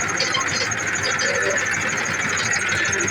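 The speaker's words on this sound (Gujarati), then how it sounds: "ટ્રેક્ટર લઈને નીકળીએ" A tractor hitched to a trolley fully loaded with soil idles with a steady, rumbling mechanical drone, close and constant, while someone talks over it.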